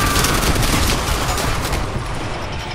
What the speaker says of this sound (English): Shoot those barrels!